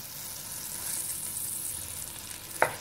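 Onions frying in warm olive oil, a soft steady sizzle throughout with a single sharp clink of a utensil near the end, fairly quiet and with no talking.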